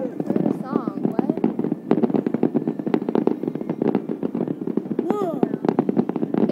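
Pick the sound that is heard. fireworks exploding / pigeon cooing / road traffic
fireworks exploding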